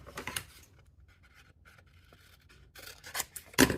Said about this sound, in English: we are going to start to cut out these really tiny turkeys